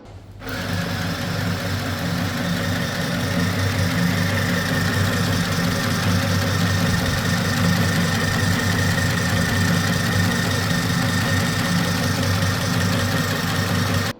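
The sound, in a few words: Chillaxplus mini sewing machine winding thread onto bobbin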